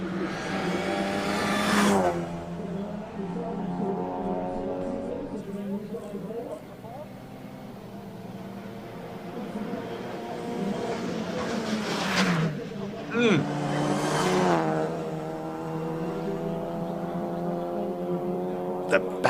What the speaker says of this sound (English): Let's listen to this GTC Super Cup car.